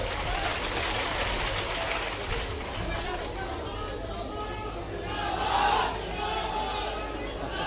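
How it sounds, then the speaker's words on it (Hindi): A large crowd clapping at a political rally: a sustained patter of many hands with scattered shouts and cheers, swelling louder toward the end. "सभी जोरदार तालियां बजाएं अपने अपने स्थान पर बैठकर।"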